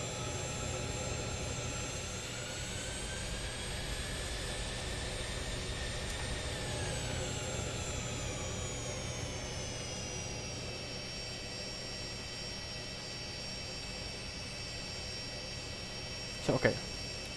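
Steady whine of Fokker 70 jet engines taxiing in Flight Simulator X, a continuous tonal hum with a slowly falling pitch that holds at a moderate level, followed by a brief click near the end.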